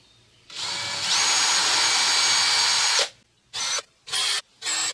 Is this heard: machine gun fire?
no